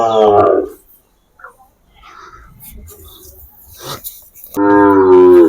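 A Sahiwal bull gives two loud, close moos, one at the start and one at the end, with quieter shuffling and faint sounds in between.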